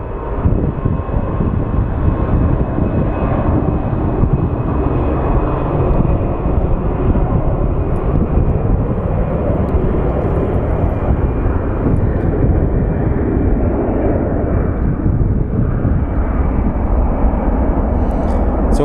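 A Southwest airliner lands at Phoenix Sky Harbor airport, producing a loud, continuous, low engine roar that stays steady and close throughout.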